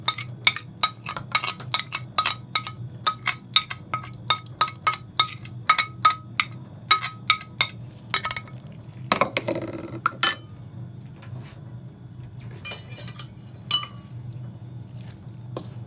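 A utensil clinks sharply and rapidly against a bowl while seasoned flour batter for Jamaican saltfish fritters is mixed, with close, bright clicks in quick bursts, a short pause with a wet squishing stir, then a few more clinks.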